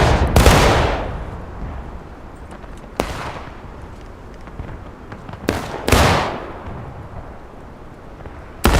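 Gunfire in a Civil War video game battle: sharp, loud musket and cannon reports, three or four big blasts spaced a few seconds apart, with scattered distant shots and rumbling echoes between them.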